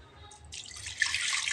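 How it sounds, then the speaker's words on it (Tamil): Plain water being poured for butter making, starting as a faint trickle and swelling into a steady, splashing pour over about a second and a half. "இப்போ கொஞ்சம் சாதா தண்ணியை ஊற்றிக்கிறேன்"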